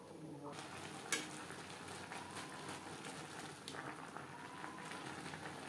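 Cabbage vorta cooking under a lid in a pan on a gas flame, a soft steady sizzle and faint bubbling that runs throughout, quiet and close, with a couple of small clinks.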